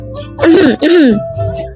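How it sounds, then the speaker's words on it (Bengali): A single short, rough throat clearing, loud and close, voiced in two quick bursts with a brief break between them. "উপস্থিতি জানান দিতে খ্যাক করে গলা পরিষ্কার করে"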